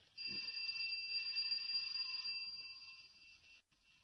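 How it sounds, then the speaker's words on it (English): A doorbell rings as a radio drama sound effect, a steady electric buzzing ring held for about three seconds before cutting off, fairly faint and alone. "I'll try the bell."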